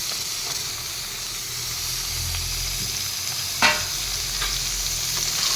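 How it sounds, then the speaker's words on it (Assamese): Fish heads frying in a pan over low heat for an Assamese fish dish, a steady close sizzle with occasional stirring scrapes and one sharp clatter near the middle. "মাছৰ মূৰখিনিও ইয়াতে একেলগে ভাজিম।"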